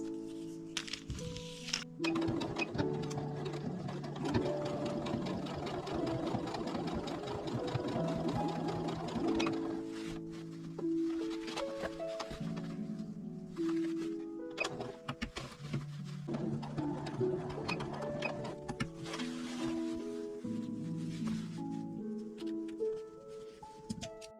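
Sewing machine stitching a seam on a tulip-style fabric bag, a quiet rapid mechanical whirr running in stretches under tonal background music.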